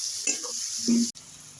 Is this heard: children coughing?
no